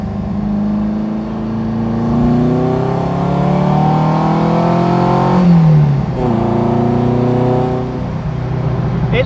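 A Beck Porsche 550 Spyder replica's engine revs loudly and close up, pitch climbing through gear changes as the open-top car accelerates, with a brief shift break midway.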